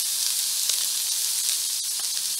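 Crushed red chili sizzles in a hot kadhai while spices for Chinese-style fried rice are roasted. A close, steady hiss holds at an even level with faint crackles and no voices.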